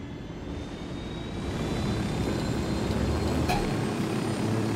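An aircraft engine drones steadily as a player pilots in the Ghost Recon Wildlands video game, a loud continuous rumbling roar that swells slightly after the first second and holds, with no talking.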